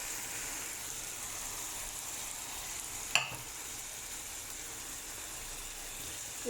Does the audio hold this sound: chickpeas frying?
yes